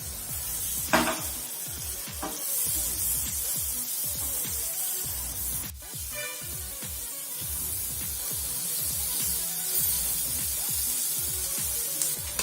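Onion, capsicum and green chilies sizzle in butter in a pan for a street-style cheesy Maggi, a steady frying hiss with repeated scraping and clinking of a spoon stirring against the pan throughout.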